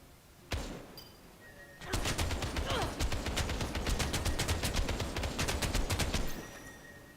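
Gunfire in the mobile shooter Final Fantasy VII: The First Soldier: one isolated shot, then a long run of rapid, evenly spaced shots over several seconds before it stops.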